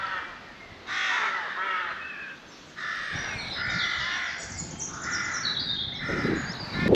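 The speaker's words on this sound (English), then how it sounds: "There's a hell of a lot of crows." Crows caw repeatedly around a Yorkshire campsite, harsh calls overlapping and coming in bursts at moderate distance, with smaller bird chirps and outdoor rustle underneath.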